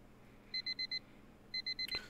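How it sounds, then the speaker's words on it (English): An alarm clock goes off in the video game Tennis Ace, sounding two bursts of four quick, evenly spaced electronic beeps at moderate level, the second burst ending with a short click. "So Hector's alarm is going off"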